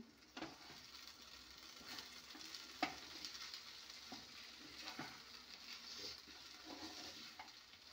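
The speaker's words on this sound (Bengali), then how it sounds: "তো এবার আমি সুজিটাকে নাড়াচাড়া করে দেব" Semolina being stirred in a pan for a savoury soji upma, a faint continuous sizzle with soft scraping strokes of the spoon and one sharper clink near the middle, heard alone without voices.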